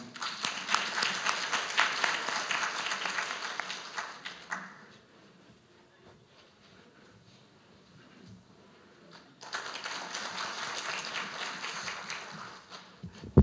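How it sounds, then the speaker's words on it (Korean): Audience applause opens the Korean ITS Society 2023 autumn conference in Jeju, a dense burst of clapping that fades to quiet murmur around the middle, then swells again into a second round of sustained applause. "한국 ITS 학회를 사랑하는 마음을 듬뿍 담아 큰 박수 부탁드립니다."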